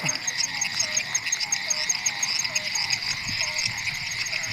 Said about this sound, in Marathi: आज पाऊस झाला भरपूर आणि बेडकांचा आणि किड्यांचा आवाज बघा